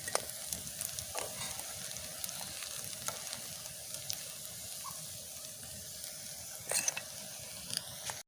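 Sooji and potato breakfast snack fries in hot oil, a steady, close sizzle and crackle running throughout with occasional clicks and scrapes of a utensil, no talking over it.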